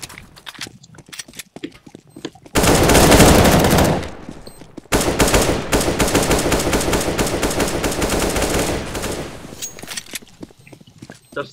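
Loud automatic gunfire in a CS:GO 2v2 match: a sustained rattling burst, a short pause, then a longer continuous volley before trailing off into faint clicks.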